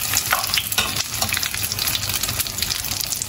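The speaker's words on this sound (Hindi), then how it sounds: "तो गाइस, यहाँ पर हो रही हैं फ्राई टिक्कियाँ और यहाँ पर अभी हमारे वो भी फ्राई हो रहे हैं।" Shami tikkis and samosas frying in hot oil for iftar, a dense continuous sizzle with crackling bursts, close and steady, with no voices.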